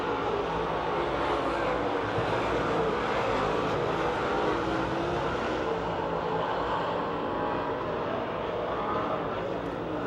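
Race cars at Pennsylvania Motor Speedway in Pittsburgh roar steadily through the final lap, a dense continuous engine drone that holds loud and unbroken for the whole stretch, with no talk over it.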